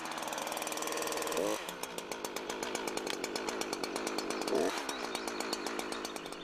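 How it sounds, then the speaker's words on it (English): Chainsaw idling and revving close by, a steady buzzing drone with two brief throttle surges, loud and alone without any talk. "When you've got the saw started, don't disengage the chain brake until you're ready to saw."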